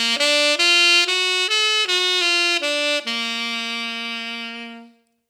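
Jazz guitar plays a major-chord pentatonic scale as single sustained notes stepping upward, about eight clear notes in steady rhythm, the last ringing out and fading, close and alone with no talk.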